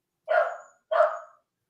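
A dog outdoors at night, worked up, gives two sharp barks about half a second apart, fairly close and clear against an otherwise silent background.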